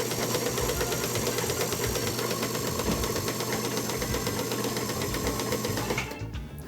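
A peaches-and-cream colored Featherweight sewing machine stitching fabric pieces, a steady fast mechanical whirring and clatter running loud and continuous for about six seconds before stopping abruptly.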